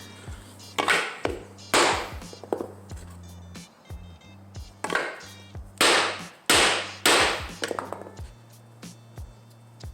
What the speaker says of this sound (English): Let's see if we can do, what kind of damage we can do with a hammer.